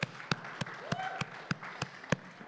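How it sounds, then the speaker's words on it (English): A church congregation applauds during a service, with sharp claps falling in a steady rhythm about three times a second over a low murmur and a voice. "Y'all give him a round of applause."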